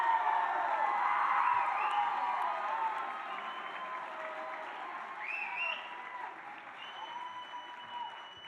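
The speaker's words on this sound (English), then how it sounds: "I think now is a great time for a rousing round of applause for everybody" Sustained applause from a large crowd at a community college spring commencement ceremony, with scattered cheers and whoops, loud at first and gradually thinning over several seconds.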